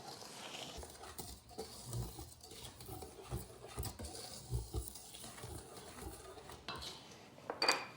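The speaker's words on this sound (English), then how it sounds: "And then whisk everything together." A few ingredients with a pinch of salt and boiling water are whisked together in a bowl, with faint, irregular clinks and scrapes of metal against the dish, quiet and close.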